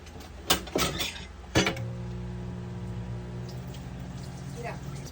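Cutlery and kitchen items clink as a fork is fetched to mix brownie batter, with a couple of sharp clatters early on, then a low steady hum and soft movement, with a voice heard at times.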